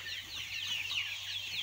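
Chickens in an indoor poultry farm house cluck and chatter continuously, a dense flock murmur with a steady low hum of ventilation or machinery underneath.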